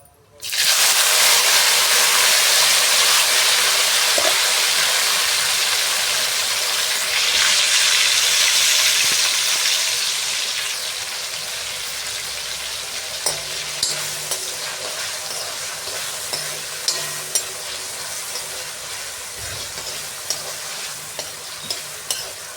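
Chopped tomatoes and a ground vegetable mixture for Jain pav bhaji hit hot oil in a pan with a loud, close sizzle that slowly settles, while a spoon stirs and clinks against the pan now and then.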